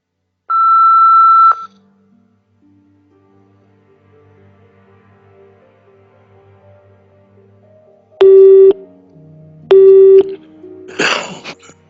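Beeps and phone tones in the Nancy Drew game Midnight in Salem: a long steady beep, then two sharp stepped tone bursts after a pause of quiet hum, followed by a brief noisy crackle, with no talking.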